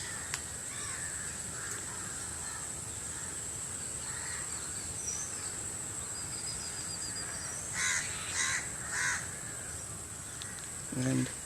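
Crows caw several times in short bursts over a steady hum of insects at a riverbank where birds gather to fish, with low background rumble throughout.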